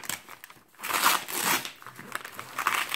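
Paper packing material crinkles and rustles as a large parcel is unpacked by hand, in uneven bursts of crisp crackling with a brief pause early on, recorded close.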